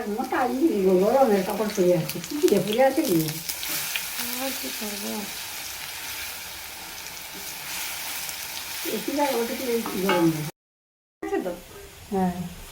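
Eggplant fritters fry in hot oil with a soft, continuous sizzle and crackle, partly under someone talking at intervals.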